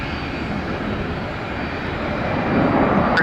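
A Delta airliner climbs out after departing Detroit Metro Airport, its engine roar steady and broadband, swelling slightly louder toward the end with no voices over it.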